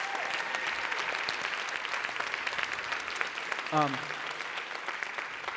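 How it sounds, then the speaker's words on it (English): A round of applause from the audience at a pitch competition event: continuous, moderately distant clapping from a crowd, with a brief voice cutting through near the end. "Give yourselves a round of applause"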